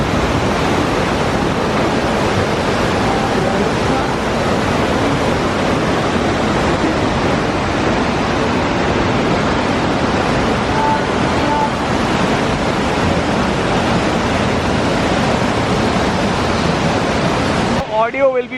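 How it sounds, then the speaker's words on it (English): A small waterfall at Kempty Falls in Uttarakhand roars as a dense, steady rush of falling water, loud and continuous for the whole stretch with no talk over it. "come to the smaller waterfall"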